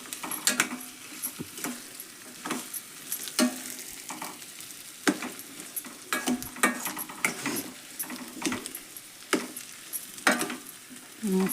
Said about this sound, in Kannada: ಅಷ್ಟು ಎಣ್ಣೆ ಒಳಗೆ ಫ್ರೈ ಆಗಲಿ ಇದು.